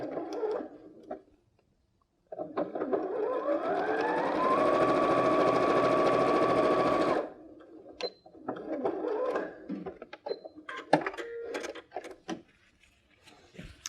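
A domestic sewing machine runs steadily for about five seconds, stitching a plain patch onto the last row of a rose quilt block, with a rising whine at the start, then a pause and light handling clicks and fabric rustle afterward.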